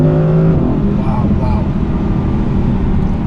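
An Audi R8 Performance V10 engine accelerates hard in a steady, loud roar that holds throughout, with an engine note similar to the first-generation Lamborghini Gallardo Spider.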